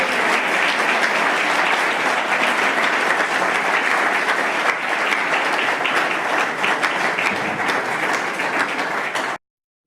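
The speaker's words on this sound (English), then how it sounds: "Can we give them another round of applause" Audience at the BC Parliament in Victoria gives another round of applause, a loud, even, sustained clapping that runs nearly ten seconds before cutting off abruptly.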